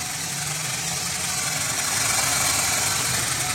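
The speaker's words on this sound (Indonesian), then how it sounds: "ini kan mesin sekarang sudah menyala ya" A used car's engine idles steadily and close, with a continuous rumbling hum and fine mechanical vibration and no talking.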